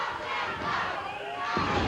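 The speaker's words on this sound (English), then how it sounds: "I hear a crowd. The crowd's divided." Wrestling arena crowd at a USWA match yelling and cheering, loud and continuous throughout, a divided mass of voices with shouted chants rising and falling.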